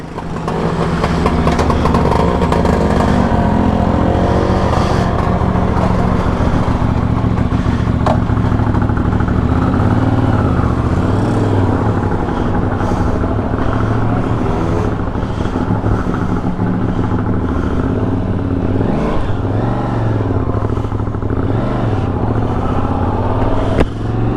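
A TRX 850 motorcycle engine runs steadily and pulls away, giving a continuous loud rumble mixed with wind buffeting on the microphone for the whole stretch, with no voices.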